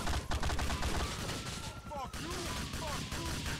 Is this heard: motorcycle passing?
no